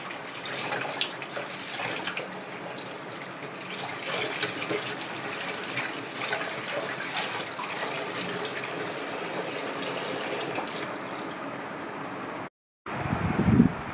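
Tap water pours steadily into a sink while mangoes are washed, a continuous close gushing that stops abruptly near the end before a brief clatter follows.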